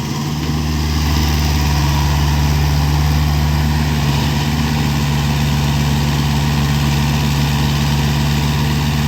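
Komatsu PC60-5 excavator engine idling: a loud, steady low diesel rumble with a constant hum and vibration, holding unchanged for the whole stretch with no voices.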